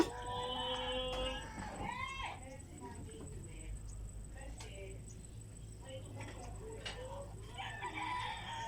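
Many birds gather over a fish drying area by a fish pond, with scattered calls and chirps in the outdoors over steady low background noise, while a person talks at moments.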